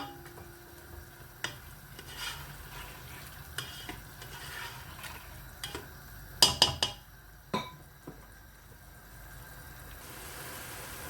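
Tomatoes and prawns cooking in a karahi over a high gas flame for a Lahori-style prawn karahi: steady low sizzle with intermittent stirring scrapes and clinks, a cluster of sharper knocks near the end, with no voices.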